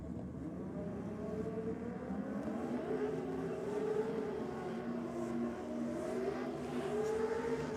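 A Datsun drag car with a 2JZ engine roars down a dragway strip at a state championship meet, its loud, steady engine drone rising in pitch as it accelerates, with no voices over it.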